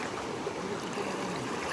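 Clear river flowing through a forest, a mahseer fishing stream: a steady, close rush of running water with soft gurgling, unbroken throughout.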